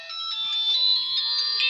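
A mobile phone plays a bright electronic ringtone melody, loud and close, with sustained tonal notes continuing without speech.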